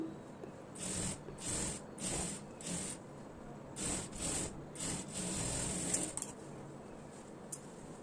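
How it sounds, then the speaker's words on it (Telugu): A needle and thread are pulled through blouse cloth for a hand-sewn double stitch, giving soft, quiet rubbing swishes in a steady rhythm of about one stroke per second, up close. "దానిపైన అయితే మళ్ళీ ఒకటి డబుల్ స్టిచ్ అయితే వేస్తున్నాను."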